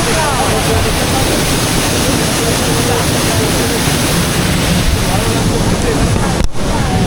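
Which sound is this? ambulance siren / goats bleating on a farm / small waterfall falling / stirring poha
small waterfall falling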